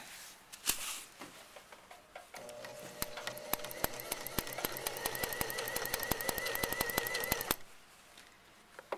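A sewing machine back stitches along the inner leg seam of a pair of trousers, a fast, steady run of close mechanical needle clatter lasting several seconds, with brief separate clicks before it starts and after it stops.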